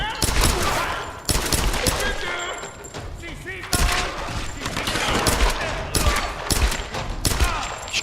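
Rapid gunfire from the Tomb Raider video game rattles on without pause, dense bursts and loud shots with thuds and crashes mixed in, while a player talks over the action.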